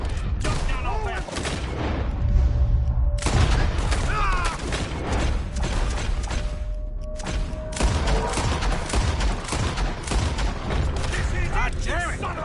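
Gunfire from Red Dead Redemption 2 cracks out in dense, repeated bursts across the whole stretch, loud and close, mixed with booming impacts and game ambience while voices talk over it.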